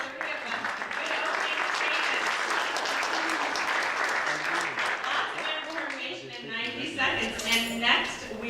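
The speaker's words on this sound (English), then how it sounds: "I guess a round of applause for all 3 of them." Audience applause at a 2019 South Bend city council candidate forum, steady and full for most of the stretch, thinning near the end as a few voices and scattered claps come through.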